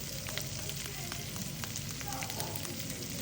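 Dried loitta fish sizzle and crackle in a frying pan, a steady dense hiss with scattered small pops, close and continuous.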